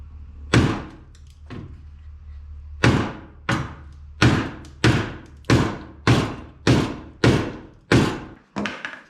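Hammer knocking a dent out of a Honda CRX Si body panel, about ten sharp metallic thumps in a fairly regular rhythm, loud and close with short decays between blows.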